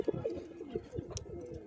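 A pigeon coos softly, low throaty murmurs repeating in a soft rolling rhythm, close by in a quiet setting.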